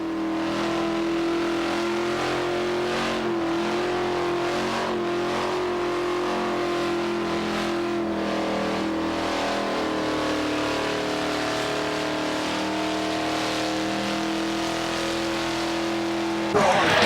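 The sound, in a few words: Holden with 308 engine revving during burnout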